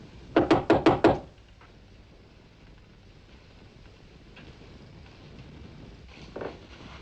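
Five quick, loud knocks on a door in a tense domestic scene, a sharp evenly spaced burst followed by quiet room tone and a faint thump later on.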